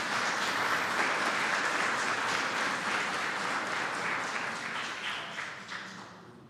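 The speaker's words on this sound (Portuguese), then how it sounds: "Você pode aplaudir Jesus por isso?" A church congregation applauds Jesus during a sermon, a dense, steady wash of clapping that holds evenly and tapers slightly toward the close.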